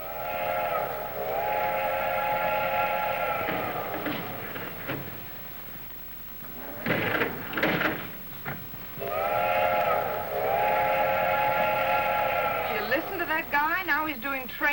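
A voice imitates train whistles in two long, steady multi-tone wails with a pause between them, closing with wavering hoots, while other voices talk in between.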